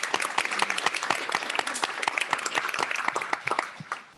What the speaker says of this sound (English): tremendous round of applause